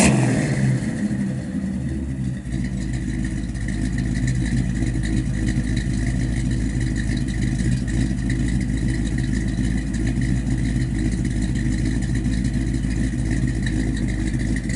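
A 1957 Chevrolet Bel Air two-door hardtop's engine runs steadily through its exhaust, a loud, continuous low rumble with no clear rev peaks, close by and alone.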